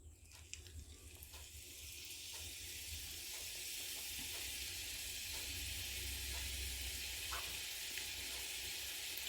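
Murukku dough pressed into hot oil fries with a steady, loud sizzling hiss that builds and holds throughout, with faint scattered pops and no talking.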